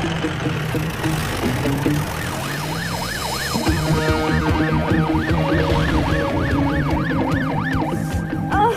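An ambulance siren wails in a loud, repeating rise-and-fall pattern, close by over traffic noise, after a few seconds of engine and street sound.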